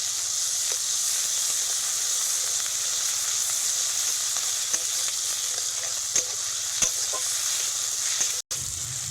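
Tomato, ginger paste and green chillies sizzle steadily in a hot pan, a continuous frying hiss broken by occasional scrapes and clicks from stirring, close and alone without talk.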